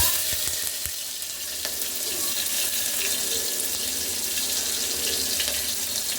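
Mustard seeds and chopped onion sizzle steadily in hot oil in a pan, making a continuous close hiss with a few sharp pops near the start.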